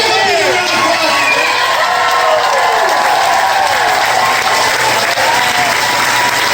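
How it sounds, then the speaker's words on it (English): A big crowd at a Florida rally gives sustained, loud applause, with cheering and whoops over steady clapping, and voices shouting through it. "give a big round of applause."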